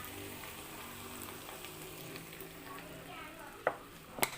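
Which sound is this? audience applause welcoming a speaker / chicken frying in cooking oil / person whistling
chicken frying in cooking oil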